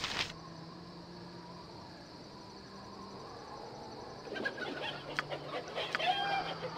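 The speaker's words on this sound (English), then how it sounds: "Now we would save and say hi to the chicken." A chicken clucks in the Baldur's Gate video game over a steady bed of ambient insect and bird sounds, with the clucking and activity growing busier and louder in the second half.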